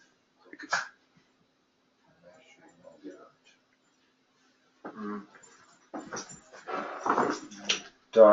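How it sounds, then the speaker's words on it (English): A dog gives faint, scattered whimpers and soft yips during a seizure, heard indoors in quiet bursts with some quiet movement around it. "Dog's having a seizure."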